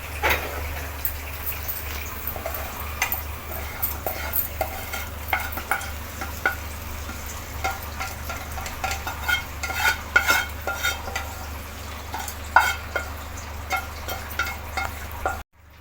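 Onion and tomato mixture being stirred into batter in a bowl, heard as an ongoing wet, close stirring with frequent light spoon clinks and scrapes against the container and a low steady hum underneath.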